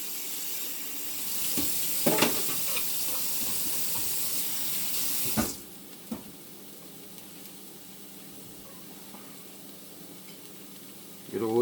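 Diced green onions and carrots fry in a pan on medium heat, a soft steady sizzle broken by a few scraping stirs, with running water loud over the first half before it cuts off.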